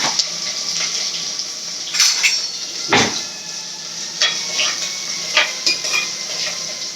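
Curry leaves, green chillies and onion sauté in a pan for fish curry, giving a steady soft sizzle punctuated by a few sharp clinks and scrapes of a spoon against the pan, with no talking.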